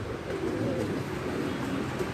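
A pigeon coos in soft, low, repeated throaty phrases close by, a steady murmur with no talk over it.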